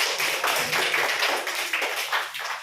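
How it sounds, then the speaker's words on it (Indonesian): Students in a classroom give a round of applause for the Batak group after their presentation. It is a dense, fairly loud patter of many hands clapping fast and unevenly, with no talk over it. "Tepuk tangan dulu untuk suku Batak ini."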